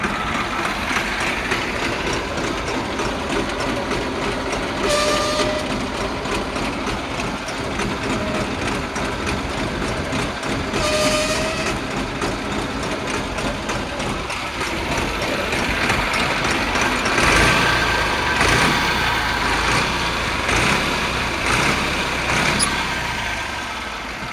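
A New Holland 3230 tractor engine drones throughout with the PTO running, loud and continuous, with occasional mechanical clanks and a rougher stretch toward the end.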